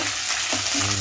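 Curry leaves hit hot oil with green chilies for mango and coconut pulihora, giving a loud, dense sizzle that holds steady throughout a brief moment.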